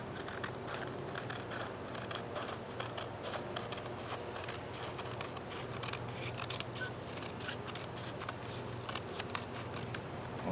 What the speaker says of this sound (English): I'm just going to cut along this line here